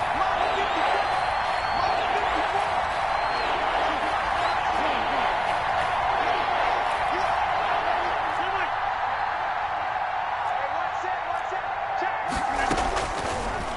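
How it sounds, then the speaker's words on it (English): Steady stadium crowd noise from an American football video game, a continuous roar of cheering that holds at a constant level throughout, with a few sharp thuds near the end. "The crowd getting into it as we come up on a big 3rd down."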